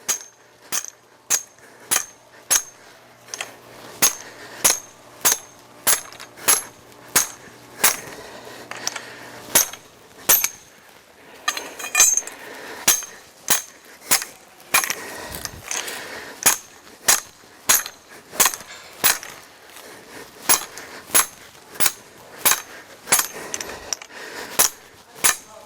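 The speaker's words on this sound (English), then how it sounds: "I'm glad I brought out the big hammer today because we got some hard ground here." A big hammer strikes a metal pipe again and again, driving it into hard ground in a steady rhythm, each blow a sharp ringing clang up close, dozens of hits with no talking.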